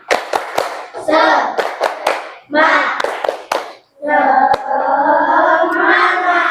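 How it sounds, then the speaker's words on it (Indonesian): A classroom group performs the Indonesian 'tepuk semangat' clapping chant, sharp rhythmic claps in short patterns alternating with loud chanted voices of many people, close and energetic. "Kita tepuk semangat ya."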